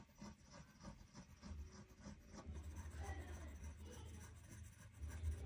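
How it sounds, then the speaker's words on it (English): Quiet scratching of a Sailor fountain pen nib moving across paper in short, repeated strokes, soft and close, almost whispering. "It kind of sounds like the Sailor is whispering on this paper."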